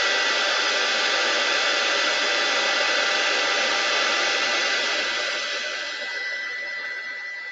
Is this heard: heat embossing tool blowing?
yes